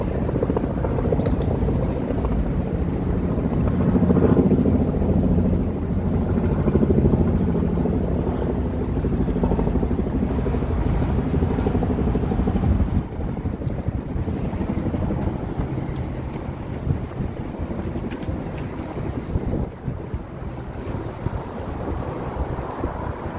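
A boat on a river in steady wind, with broad low rumble and rushing wind buffeting the microphone throughout, loud and continuous, with no talk.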